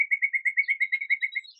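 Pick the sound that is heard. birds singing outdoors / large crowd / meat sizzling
birds singing outdoors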